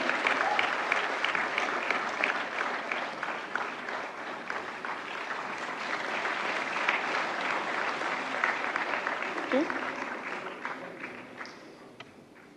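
Sustained applause from the audience at a national film awards ceremony, dense and continuous clapping of a large crowd that holds steady for several seconds before gradually thinning and fading at the end.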